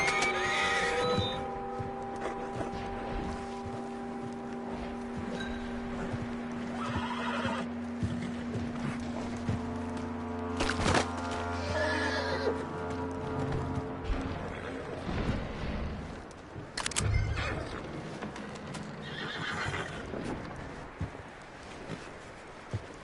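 A horse whinnies and snorts with hooves clopping in Red Dead Redemption 2, set over a steady game music bed with sustained tones, with a few louder knocks midway.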